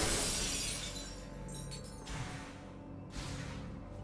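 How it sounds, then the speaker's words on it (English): Tempered glass shattering in Metroid Prime 4: Beyond, a loud burst of breaking glass at the start that fades into scattered tinkling fragments and a couple of softer whooshes, with no talk. "Tempered glass fractured in several places. Structural integrity weakened. A powerful impact will shatter it."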